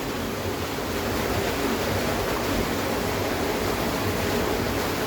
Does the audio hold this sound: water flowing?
yes